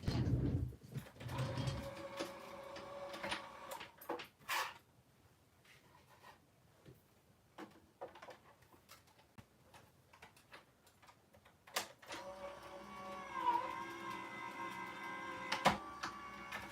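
A paper card cutting machine whirs and ticks as it feeds and cuts cardstock, steady mechanical clicks and sliding movements with occasional louder knocks, close and fairly quiet.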